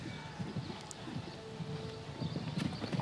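A show jumping stallion's hooves clip-clop on the ground at a show jumping grand prix, a quick uneven run of muffled hoofbeats heard faintly at a distance under soft crowd murmur.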